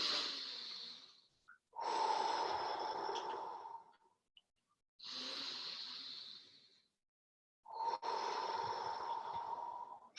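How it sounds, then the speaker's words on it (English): Deep guided breaths, drawn in through the nose and pushed out through the mouth, come in four long rhythmic cycles, close and fairly loud with short silent gaps between them. "Now we're going to take 10 deep breaths."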